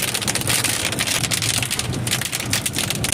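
Hard rain pounds down during a local thunderstorm in west-central Pennsylvania, a loud, dense, unbroken drumming of drops on a nearby surface with no voices heard.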